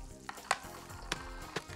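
Food browning in a pan for jamaica tacos, a steady soft sizzle with a few sharp clicks and scrapes of a utensil against the pan, close and fairly quiet.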